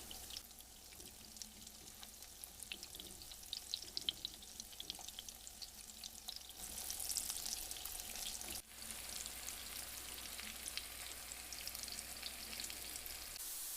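Zucchini slices fry in oil, a faint continuous crackling sizzle that swells louder partway through after a brief handling knock.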